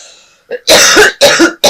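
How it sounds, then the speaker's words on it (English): A person is seized by a bad cough: a faint throat catch, then three loud, harsh coughing bursts in quick succession, very close and alone. "I have an awful cough, and it's going to come up, I'm sure."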